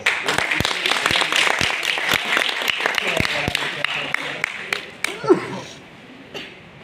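Scattered audience clapping at a university talk, sharp separate claps that thin out and stop, with a cough and a voice breaking in near the end.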